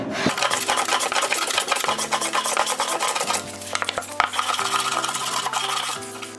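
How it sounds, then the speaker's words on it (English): A shaper cuts a bevel on the bottom of a rail, producing continuous close rasping, rubbing strokes with a rhythmic scraping texture, loud and steady without speech. "So we're going to cut this first bevel."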